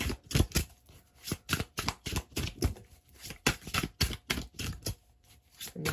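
Tarot cards are shuffled and drawn one at a time, producing a quick, steady run of close, crisp papery snaps and flicks.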